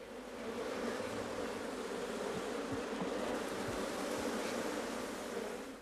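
Honeybees swarm around an opened hive on an estate during a queen-taking inspection, a dense, continuous droning buzz close by with no talking.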